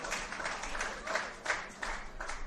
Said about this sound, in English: Much to the applause of the Brunswick supporters